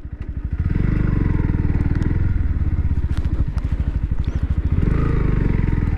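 A Bajaj Pulsar NS160 motorcycle with a BS6 engine is ridden, its loud, close, steady engine thrum pulsing evenly throughout, dipping briefly as the throttle eases and picking up again.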